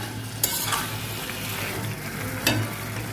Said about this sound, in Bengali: এবার আমি আলু আর চিকেন একসাথে ভালো করে কষতে থাকবো।